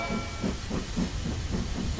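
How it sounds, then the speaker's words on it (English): Cartoon steam train setting off, rhythmic puffing chuffs repeating about every quarter second over a steady steamy hiss, close and continuous, with no voices. "Let's go, Mr. Train."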